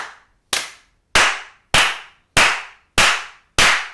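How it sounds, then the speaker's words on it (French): Six sharp, isolated claps ring out at a slow, even pace, each a loud close smack with a ringing decay and silence between, after a faint lead-in. "On peut applaudir maintenant."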